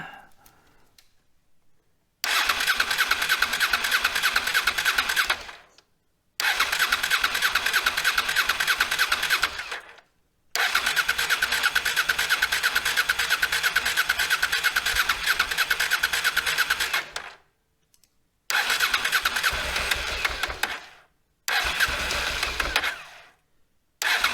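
A Honda Africa Twin motorcycle, just fitted with a new fuel pump, is cranked again and again in long starter bursts separated by short pauses, close and loud with no voices.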